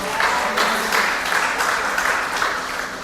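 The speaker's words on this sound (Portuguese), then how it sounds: "Aplauda ao Senhor, amém?" A church congregation applauds during a sermon, giving a few seconds of rhythmic, pulsing clapping from many hands that rises and falls slightly, heard without speech over it.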